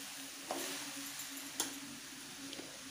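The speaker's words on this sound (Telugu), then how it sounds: "సిమ్లోనే ఫ్రై చేయాలండి" Grated coconut frying on low heat in a pan for coconut burfi, with a faint steady sizzle and a few soft scraping knocks as it is stirred.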